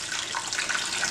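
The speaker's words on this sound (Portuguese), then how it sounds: "Agora a gente vai cobrir essa massa com água." Water runs from a tap over a ball of wheat flour seitan dough in a bowl, a steady broadband splashing and gushing that stays close and continuous with no voices.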